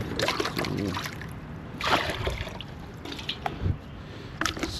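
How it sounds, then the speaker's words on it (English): Muscovy ducks drink fresh water on a farm, giving soft repeated dabbling, splashing and sloshing sounds close by, with faint background noise and no clear talking. "See, they're all drinking now fresh water."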